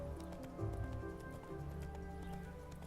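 Horse hooves clip-clop faintly and steadily in The Witcher 3, a soft rhythmic patter set back beneath a humming game soundtrack and ambience.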